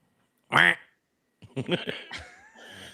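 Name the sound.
person imitating a duck quack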